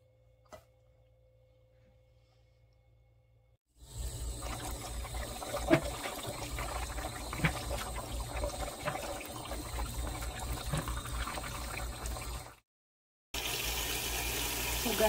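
Water running from a kitchen tap while beans are rinsed at home, a steady close splashing rush that starts after a quiet opening, stops briefly, then resumes.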